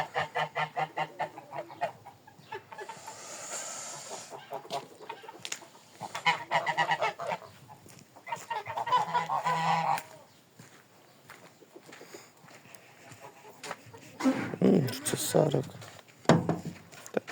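Several geese honk loudly in repeated bursts, close by, with some hissing, scattered footsteps and a person talking in between, during evening egg collection.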